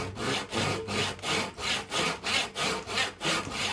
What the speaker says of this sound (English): It's much easier when it's clamped down, because the saw is the only thing moving rather than the job.